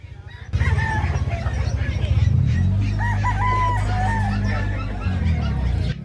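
Fighting roosters crow loudly and close, overlapping calls rising over a steady low rumble, with several drawn-out cock-a-doodle-doo cries in succession.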